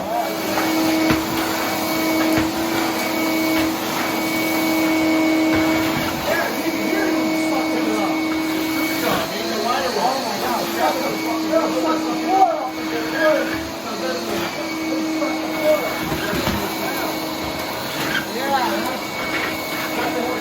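A Ridgid shop vac runs steadily with a continuous loud whine and motor drone, close by, for the whole stretch.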